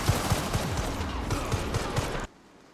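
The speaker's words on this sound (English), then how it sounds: "Direct gunfire." Gunfire in the video game Resident Evil 9, a rapid burst of repeated shots in a dense, loud volley that cuts off abruptly into near silence.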